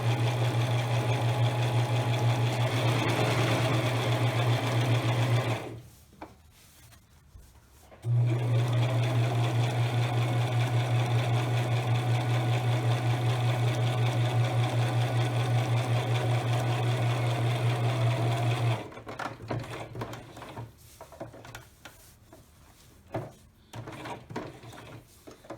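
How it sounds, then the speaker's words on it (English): A sewing machine stitches down the edge of a reversible napkin, a loud steady mechanical hum with a strong low drone, broken by one short pause and ending in a few brief bursts and clicks. "Continue sewing down."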